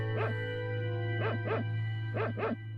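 Dog barking in the Secret of Evermore video game, five short yips in two quick pairs plus an opening single, clear over a steady droning game music bed.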